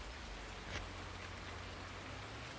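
Steady rain falls in Farming Simulator 19, a soft continuous patter with a few louder drops, quiet and alone without talk.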